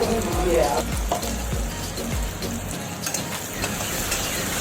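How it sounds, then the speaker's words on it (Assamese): Sliced onions sprinkled with a little salt fry in a small amount of oil in a kadai, giving a steady, close sizzle with a few soft low knocks throughout. "সেই একেখন কেৰাহীতে আৰু অলপমান তেল দি কাটি থৈ দিয়া পিয়াজখিনি এড কৰি দিছে"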